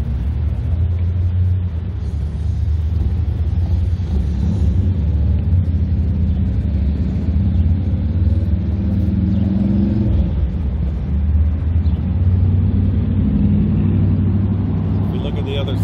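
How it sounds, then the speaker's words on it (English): Cars drive past on a Las Vegas street near the Strip, a constant loud low rumble of passing traffic with engines swelling and fading, under speech. "There's actually a lot of cars driving right now."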